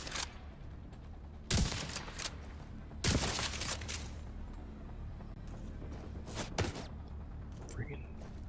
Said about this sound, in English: Friggin' machine gunners